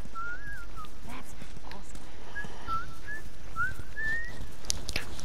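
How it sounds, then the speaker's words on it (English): A character whistles a short, wandering tune in the video game The Last of Us, faint thin notes coming and going over a low room hum. "should you be whistling?"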